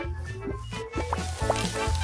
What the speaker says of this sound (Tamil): எண்ணெய் மற்றும் கிழங்கை வச்சு விடுங்க.